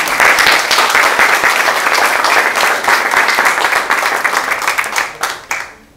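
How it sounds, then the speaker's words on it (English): An audience applauds a presentation about Swedish startups from Chalmers, the clapping loud and dense, then thinning out into a few last claps near the end. "perhaps a small round of applause for the presentation"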